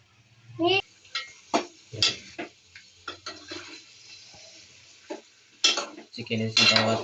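A spoon stirs chicken in a pot while Kashmiri chicken cooks, giving scattered metallic clinks and scrapes with a soft sizzle. A person talks throughout.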